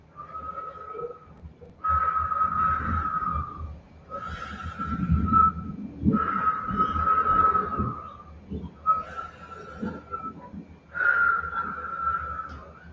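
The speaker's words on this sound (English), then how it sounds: "deep breathing through the mouth with a whistle, both on the inhale and the exhale" Deep whistling breath through a gently rounded mouth in a Kundalini yoga practice, alternating inhale and exhale in six long airy whistled tones with rough breathy undertones, close and steady, with no talking.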